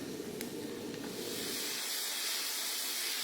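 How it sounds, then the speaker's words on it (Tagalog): Chopped garlic frying in oil that is only starting to heat, its soft, steady sizzle swelling into a broader, brighter hiss over a few seconds. "Nilalagay ko na itong bawang bago palang uminit yung mantika para nang sa ganun, dahan-dahan itong maluluto."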